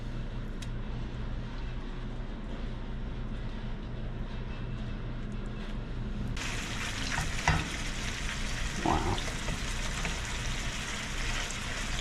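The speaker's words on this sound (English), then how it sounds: "butter's melted, so we're going to start cooking some of the crappie" Crappie fillets frying in melted butter on low heat, a steady close crackling sizzle that swells louder partway through as the fish goes into the pan.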